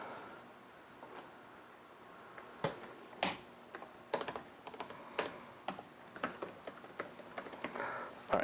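Typing on a computer keyboard while writing code: irregular bursts of clicky keystrokes, near and fairly quiet, with scattered sharper taps and no voices.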